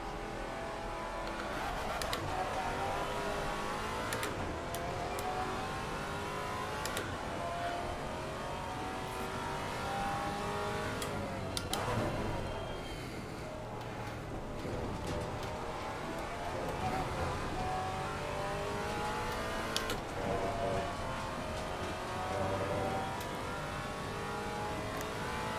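Race car engines drone and whine through a long stretch of Assetto Corsa Competizione racing at Imola, with cars passing by, revving rising and falling, and a steady mid-level roar throughout.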